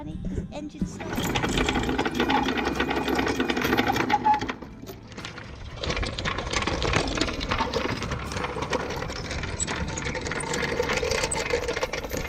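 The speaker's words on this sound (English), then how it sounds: "Anchor's coming up, honey. His engine's starting." A sailboat's engine running while the anchor is raised near Ibiza, a steady mechanical rattle and hum, with clanking and voices over it, briefly dropping mid-way before resuming.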